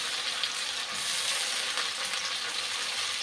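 Onion and tomato with green chilli frying in a pan produce a soft, continuous sizzle, fairly quiet and close, with faint stirring and no voices.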